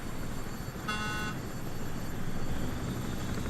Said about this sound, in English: As you can see, we've got helicopters coming and going.